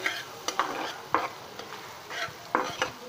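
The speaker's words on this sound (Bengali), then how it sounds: "মশলাটাকে কষিয়ে নেব।" Spice paste with turmeric stir-fried in a pan for a lentil and bitter gourd dish with prawns: a soft sizzle runs under repeated scraping strokes of a spatula, a handful of sharp close scrapes spaced irregularly, with no voices.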